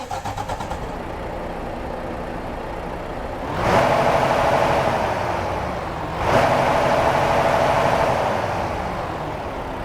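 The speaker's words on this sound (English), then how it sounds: "let's get our Mac Pinnacle started up and get on the road" A Mack Pinnacle truck's diesel engine idles in American Truck Simulator, surging twice in revs as it starts and settles, a loud, steady rumble with no talk.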